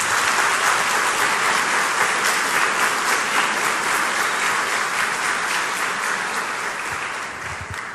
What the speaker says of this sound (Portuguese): Vamos agradecer o sim deles com a salva de palmas.